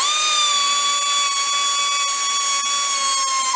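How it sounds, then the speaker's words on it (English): An angle grinder cuts through a steel weld on a Ford radius arm, giving a loud, steady, high-pitched whine with a hissing edge that holds continuously throughout, with no voices. "I'm going to grind this weld out"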